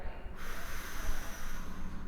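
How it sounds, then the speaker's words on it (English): A person draws a deep belly breath in, a steady close hiss of air lasting about two seconds, alone with no talking. "Breathe in, big belly."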